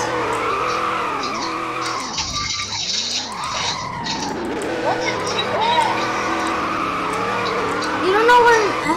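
Car tires squealing and skidding through repeated drifting zigzags, a sustained screech with rising and falling whines and engine noise, while people talk over it.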